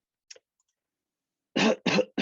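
A person coughs into a phone app for a cough-screening model: a tiny click first, then after a pause two or three sharp, close coughs in quick succession, with no one speaking.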